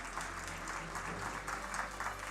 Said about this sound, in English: Let's give them a round of applause, ladies and gentlemen